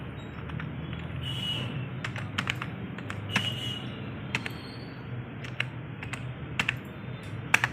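Someone types an email ID into Tally accounting software on a computer keyboard, producing a run of quick, irregular, close key clicks over a quiet room hum, with no voices.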